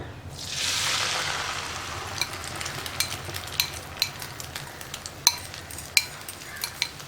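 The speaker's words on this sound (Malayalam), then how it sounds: "ഞാനിപ്പോൾ ഈ ബീറ്റ് ചെയ്ത് വെച്ചിരിക്കുന്ന മുട്ട ഇതിലേക്ക് ഒഴിച്ചു കൊടുക്കാൻ പോവാണ്" Beaten egg hits hot coconut oil with a loud hiss that swells and then settles into a steady sizzle, with small crackles and pops following.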